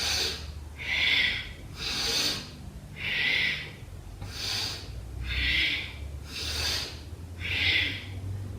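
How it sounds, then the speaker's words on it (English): Bhastrika Pranayama, a forceful yoga breathing practice, heard as about eight strong, evenly paced breaths, each a loud airy rush roughly a second apart, close to the microphone with no talking. "So we'll take Bhastrika Pranayama, which has been given as an important breath right now for everyone"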